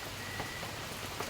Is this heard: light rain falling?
yes